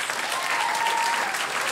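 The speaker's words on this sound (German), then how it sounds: "Und natürlich ein riesen Applaus für Jonas!" A short, dense burst of steady clapping for musician Jonas from the audience at a living-room concert, with a faint whistle through it.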